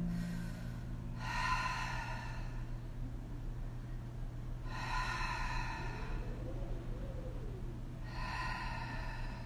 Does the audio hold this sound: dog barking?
no